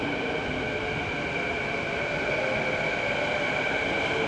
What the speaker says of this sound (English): And here comes the outbound train.